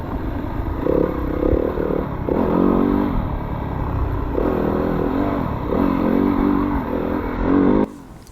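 Four-stroke dirt bike engine racing through an Ontario cross-country hare scramble: loud, close, steady drone with repeated throttle surges and revs as the rider works through bumps and ruts, cutting off abruptly near the end.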